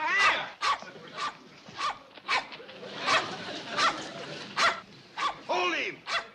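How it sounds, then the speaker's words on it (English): A dog barks repeatedly at a buffalo in an outdoor chase scene, sharp close barks and yips coming in an irregular series, with people shouting among them. "Get that buffalo dog away from him!"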